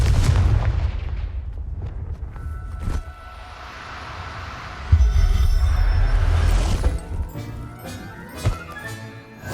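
Confringo blasting spells in Hogwarts Legacy set off a series of loud, deep booms, a heavy impact at the start and more around the middle, each followed by rumbling and crackling debris.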